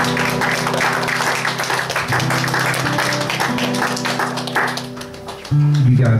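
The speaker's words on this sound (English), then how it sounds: "Church, give this family a big round of applause." Congregation applause at a church worship service, dense broadband clapping sustained throughout with a steady organ-like tone underneath, ending in a louder swell.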